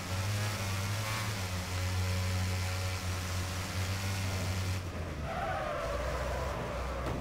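Race car skidding in the video game Wreckfest, a loud engine roar with a sustained tire-scraping skid that cuts off partway through, followed by quieter engine and tire noise, no voices.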